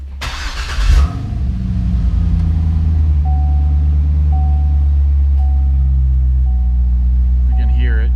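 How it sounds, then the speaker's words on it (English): A supercharged 2006 Chevrolet Corvette cranks briefly and fires, settling into a loud, steady, deep exhaust rumble at idle close by, with a faint recurring chime in the background. "I'll go ahead and fire it up."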